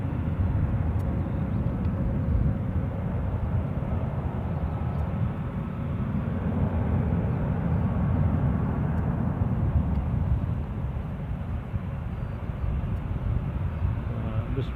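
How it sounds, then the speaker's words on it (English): A Turkish Airlines Airbus A321 departing Edinburgh Airport makes a steady, broad jet roar that holds at constant loudness for the whole stretch, with the low rumble dominant and no voices over it. "Turkish A321 on its way out."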